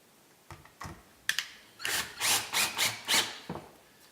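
A small spring-loaded center punch snapping as it marks hole positions, a series of sharp metallic clicks and taps, some isolated and others in a quick cluster of about five, heard close up with no talking.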